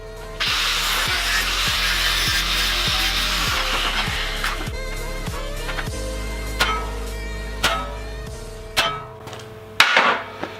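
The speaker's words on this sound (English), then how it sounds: "When using a center punch and a really big hammer" A really big hammer strikes a center punch on metal for the rear brake caliper mounting, with a steady series of sharp, ringing blows that slow to a few separate, louder strikes near the end. The strikes are close and clear, with no talk.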